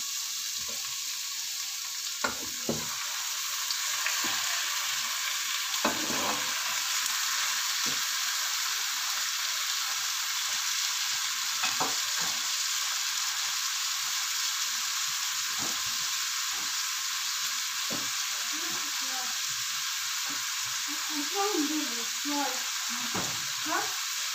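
Chicken pieces frying in a pan for kaldereta, a steady close sizzle and hiss running throughout with occasional soft stirring clatter.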